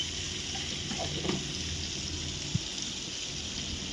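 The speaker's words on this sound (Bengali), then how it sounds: "তো লবণটা দিয়ে পেঁয়াজটাকে" Chopped onions with tomato and salt fry in a pan with a low, even sizzle and a few soft clicks of stirring, close and unbroken by talk.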